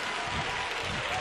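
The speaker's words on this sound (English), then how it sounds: "Somebody clap your hand for an unexpected miracle" Dense applause from a church conference congregation fills the whole short moment, steady and loud with no voice over it.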